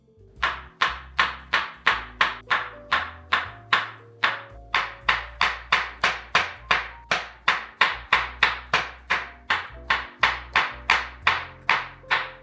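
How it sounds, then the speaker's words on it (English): Mushrooms sliced into thin strips with a knife on a cutting board, a long run of sharp, evenly spaced chops, loud and close, with a brief pause partway through and no voices. "I'm cutting mine into thin strips"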